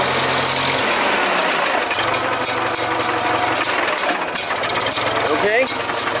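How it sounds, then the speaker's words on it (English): The diesel engine of a 1975 International 574 tractor revs as the throttle opens, a loud, close, rough rumble with clattering mechanical knocks. A voice talks over it briefly. "if you slowly give it throttle, it'll rev up. Give it more throttle."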